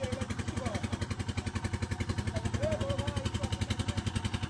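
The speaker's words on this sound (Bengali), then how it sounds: "এখন নৌকা আসছে" A motorboat engine on the Padma river chugs steadily in a rapid, even pulsing rhythm with a faint clatter, moderately loud and continuous throughout, during a fishing scene.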